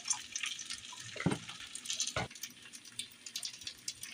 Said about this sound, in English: I'm going to add the whole thing of broth in there.